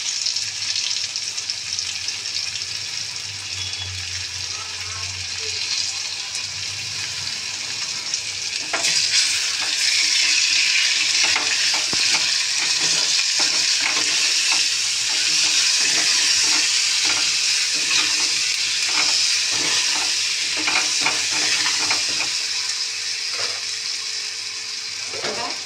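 Spices with green chili, turmeric, sugar and Kashmiri chili powder fry for fish curry, a loud, close, continuous sizzle that intensifies after the first few seconds, broken by repeated stirring scrapes and taps.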